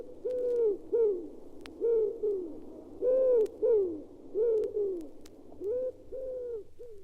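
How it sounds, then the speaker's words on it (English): A wood pigeon sings a rhythmic series of soft, hooting coos in repeated phrases, clear and fairly close against quiet surroundings. "The song of the wood pigeon."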